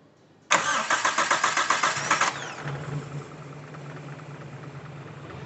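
Carbureted Daihatsu Feroza engine, just fitted with a new filter, cranks with a rapid rhythmic starter churn for about two seconds, catches and settles into a steady low idle, loud and close.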